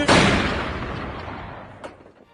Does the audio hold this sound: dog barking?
no